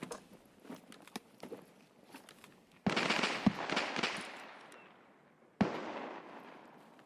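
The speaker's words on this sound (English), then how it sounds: "Someone's still shooting over here too" Gunfire in the woods of Escape from Tarkov, a scatter of sharp cracks at mid distance followed by two louder shots that ring out and decay, no talk.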